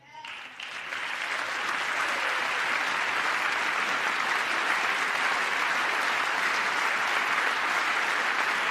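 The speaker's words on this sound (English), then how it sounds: "I wonder how long it would be without all the clapping." Sustained applause from a large audience in the chamber of Congress during a presidential joint address, swelling quickly after a brief start and holding steady and loud throughout.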